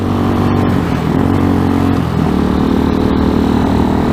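Steady engine drone from an RPS Hawk 250 Enduro motorcycle cruising on the road, a continuous loud hum with slight pitch shifts and no talking.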